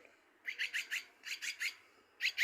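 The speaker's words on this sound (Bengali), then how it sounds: "এটা খুব সুন্দর একটি পাখি। দেখুন এর নাম হলো ঝুটি শালিক।" A crested myna calls in three bursts of harsh, chattering squawks, each made of several quick notes, loud and close with quiet gaps between them.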